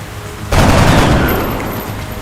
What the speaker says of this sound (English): Get ready to fire.